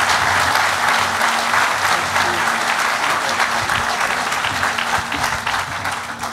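A large audience applauds Governor Bill Anoatubby at the Choctaw Nation campus headquarters grand opening, a thick, even wash of clapping hands that stays loud throughout and tapers slightly at the end.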